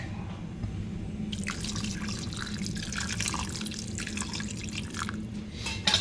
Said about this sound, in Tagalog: Dagdagan po natin ng tubig.